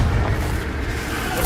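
A Confringo spell explosion in Hogwarts Legacy, a loud sustained booming rumble that fills the whole moment with no clear break.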